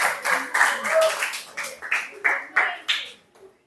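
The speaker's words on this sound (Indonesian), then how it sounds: "kita beri tepuk tangan untuk kelompok 1." A high school biology class claps for a student group after their breathing-system model demonstration, with scattered hand claps of uneven rhythm mixed with voices, fading out after about three seconds.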